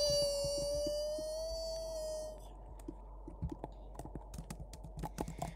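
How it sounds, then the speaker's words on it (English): Fingers tap an iPad screen in a quick, irregular run of soft clicks, close and faint, after a steady electronic tone fades out. "Tapping my iPad for real."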